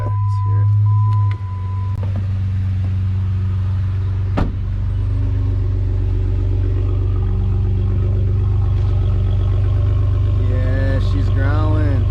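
A manual Jeep Wrangler with dual exhaust rumbles at idle, then blips and revs in short bursts, heard close and loud under a low steady drone, with a voice speaking briefly near the start.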